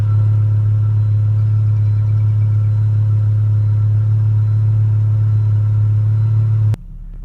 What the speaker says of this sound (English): the exhaust has a really sort of a beefy exhaust note